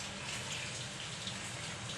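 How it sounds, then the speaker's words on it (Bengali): Water pours in a steady, close, even stream into a pot of khichuri being cooked, a continuous gushing splash with no voices over it. "পানি বেশি দেব না, অল্প করে দিয়েছি পানি, বেশি জল রাখবো না"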